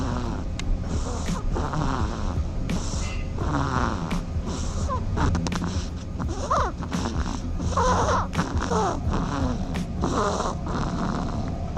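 Snoring from a dormouse, a steady run of soft, rhythmic snore-like breaths with small snorts and squeaks, close and continuous over a low background hum.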